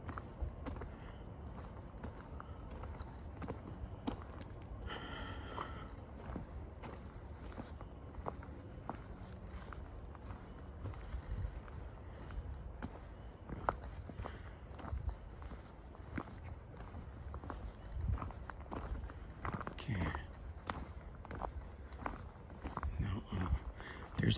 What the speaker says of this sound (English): you can hear my footsteps crunching on the stones